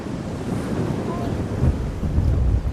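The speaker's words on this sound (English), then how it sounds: "It's really windy." Strong wind at the beach buffets the microphone with a loud, steady low rumble that swells and gusts toward the end, with no clear talk.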